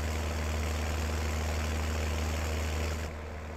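In Farming Simulator 19, a tractor and an attached mower run together in a constant low idling drone, steady and loud, easing slightly quieter toward the end.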